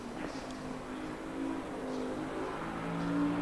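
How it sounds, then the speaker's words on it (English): A Porsche race car in Assetto Corsa Competizione at Silverstone runs with a steady engine drone that swells slightly toward the end as it approaches in the background, no talking. "Now we can hear the Porsche."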